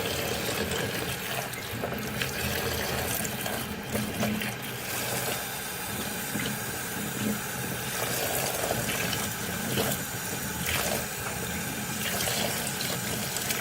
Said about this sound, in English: So we're gonna give it a wash. Just gonna rinse it.